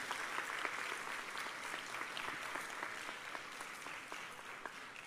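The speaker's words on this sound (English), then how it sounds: "I want you kids to give your parents a round of applause" Audience at a middle school awards night applauds their parents, a steady wash of clapping from many hands that holds evenly throughout without a break.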